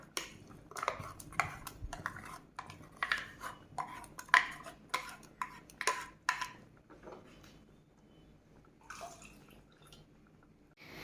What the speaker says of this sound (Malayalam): ഇനി നമുക്കിതിലേക്ക് നമ്മൾ അരച്ച് വെച്ചിരിക്കുന്ന അരപ്പ് ചേർത്ത് കൊടുക്കാം.